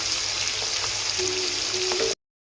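Onions frying in a pan for a chicken dish, a steady close hiss of sizzling oil with faint small pops, cutting off abruptly.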